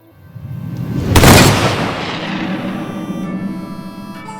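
A gunshot in a Malayalam short film: one loud, boom-like shot after a brief lead-in, with a long rumbling tail fading under steady background noise.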